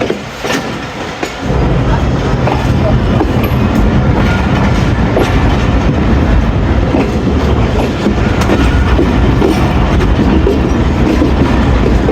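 A 101 Up railcar train runs on rails between Lahore and Rawalpindi after leaving Jhelum station, producing a loud, continuous rumble with rhythmic clickety-clack wheel beats that start suddenly after a brief quieter moment.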